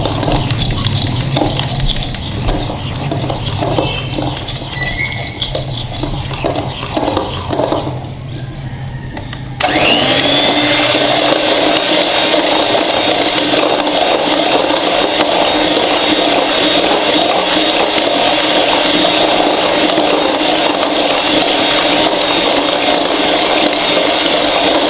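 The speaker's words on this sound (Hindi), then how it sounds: "और इसको हम बीटर से बीट करेंगे। इतना बीट करेंगे ये क्रीमी सा हो जाए।" A hand beater works through a nankhatai biscuit dough mixture in a bowl, giving a steady, close, continuous whirring and scraping with a short pause midway before resuming louder; no voices.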